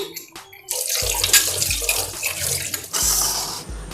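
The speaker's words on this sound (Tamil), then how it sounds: "ஸோ இப்போ வந்து நான் வந்து எல்லாத்தையும் வாஷ் பண்ணி எடுத்துக்கிறேன்." Pooja vessels being washed under running tap water, splashing and gushing with metallic clinks and shifting flow, near and fairly loud, no talk.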